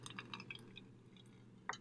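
Water drips and trickles in a few small, irregular drops as it drains from a spout in a fluids lab setup, faint and close, with a brighter drop near the end.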